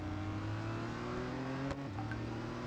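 An Audi R18 e-tron quattro (2014) race car engine in the Real Racing 3 video game drones in a steady high-revving whine, with a brief shift or pitch dip partway through.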